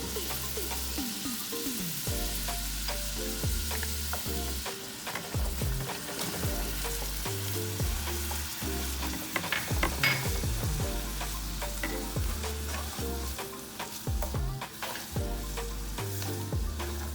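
Pineapple fries in a pan alongside onion, giving a steady loud sizzle with occasional stirring scrapes and clinks throughout.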